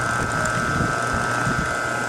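A homemade industrial-strength can crusher runs on a test, its gears and mechanism turning with a steady mechanical whir and faint ratcheting, close up and continuous, with no talk.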